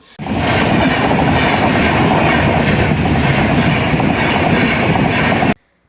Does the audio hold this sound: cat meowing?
no